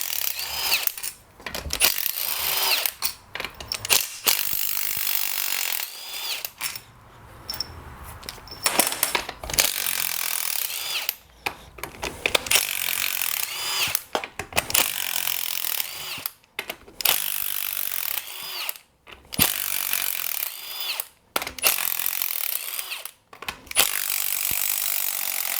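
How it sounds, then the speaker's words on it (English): Rapid ratcheting and rubbing bursts of a 13mm socket working sump cover bolts loose on a blown-up John Deere lawn tractor engine, repeated clicking spells broken by short pauses, close and steady with no talking. "now you'll need a 13mm socket to get all these sump cover bolts off"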